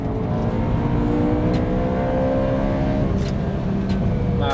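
BMW E92 M3 engine pulling under acceleration on the road, a steady rising drone with layered harmonics, close and continuous beneath road and wind noise.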